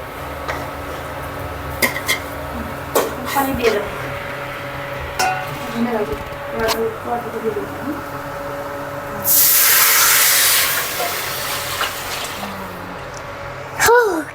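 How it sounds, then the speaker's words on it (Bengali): Hot water goes into a pan of frying khichuri and sets off a loud burst of hissing steam, after a run of scraping and clattering spoon-on-pan sounds. "আমি যেই পানি গরমটা করে রেখেছিল ওইটা আমরা দিয়ে দিব"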